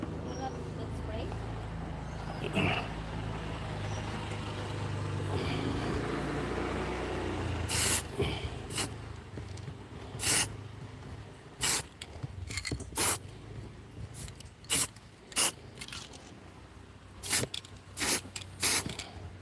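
Several short, loud bursts of yellow spray paint hissing onto a DJI Mavic Air 2S drone, coming in quick irregular spurts after a stretch of low background noise and talk.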